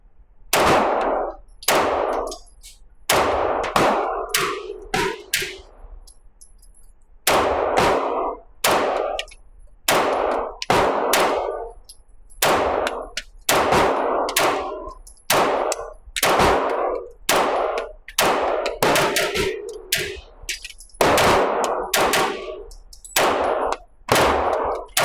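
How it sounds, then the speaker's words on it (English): Springfield Kuna pistol firing CCI Blazer 124 grain ammunition: a long series of loud, sharp gunshots in uneven bursts and singles, close by, with no talking. "shooting some Blazer, CCI Blazer 124 grain. So yeah, so let's take some shots and see how it goes."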